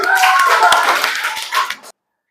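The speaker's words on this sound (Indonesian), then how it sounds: "Tepuk tangan dulu." A classroom of students claps hands together on the teacher's request, a dense burst of overlapping claps with some voices mixed in, lasting under two seconds before cutting off abruptly.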